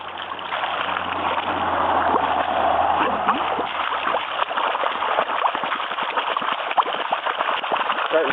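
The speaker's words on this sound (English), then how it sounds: "The force of this water coming down the pipe is sucking in new water up at the top." Water rushing and splashing steadily through the pipe of a gravity gold dredge as it sucks in new water, a continuous close gushing flow with faint talk underneath.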